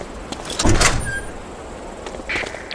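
A door opens in the World War II shooter Medal of Honor: Allied Assault, a loud close creak and clunk of the latch and swing, followed by a brief softer mechanical rattle.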